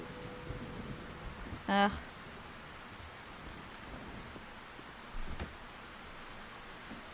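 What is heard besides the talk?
heavy rain in video game Black Mirror III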